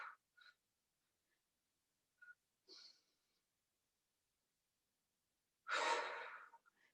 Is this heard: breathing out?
yes